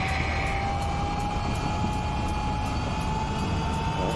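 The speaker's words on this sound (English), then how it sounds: "Flying a Huey helicopter," A UH-1H Huey helicopter in the Digital Combat Simulator flight game drones continuously, a steady whining turbine hum with a faint regular rotor pulse, moderately loud and alone without talk.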